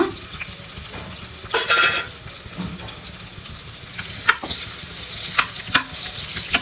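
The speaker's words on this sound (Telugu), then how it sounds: "ఈ ఆయిలే సరిపోతుంది యాక్చువల్లీ సో ఇప్పుడైతే ఆనియన్స్ వేసేసుకోవాలన్నమాట" Onions going into oil in a pan on a home stove for a Rayalaseema-style dish, a steady sizzle with stirring scrapes and occasional clatter throughout, close and moderately loud.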